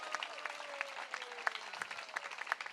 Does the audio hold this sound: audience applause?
yes